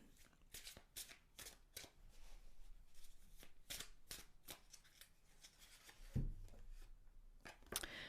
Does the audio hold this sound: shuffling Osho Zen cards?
yes